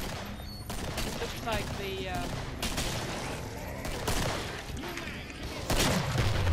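Gunfire in the co-op shooter Killing Floor, with dense bursts of rapid shots and booms running continuously while players talk over the action.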